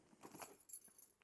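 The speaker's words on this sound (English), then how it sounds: "Keys." A small bunch of keys jangles briefly as it is pulled from the front pocket of a bag during an unpacking of everyday items, a quiet metallic rattle in two short bursts with no talk.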